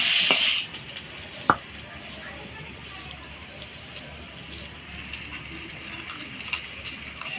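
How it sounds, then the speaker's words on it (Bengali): Potatoes for a chicken curry fry in oil with turmeric and salt, a soft continuous sizzle broken by a sharp clatter at the start and a single clink of a utensil, close and fairly quiet. "মাংসের আলুটা লাল লাল করে ভাজি নিলাম"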